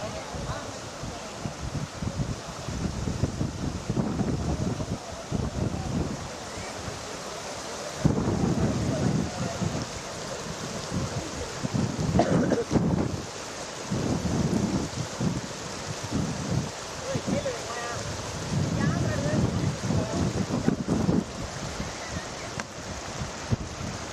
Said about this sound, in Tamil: இரு கரைகளையும் தொட்டபடி வெள்ளம் கரை புரண்டு ஓடுகிறது.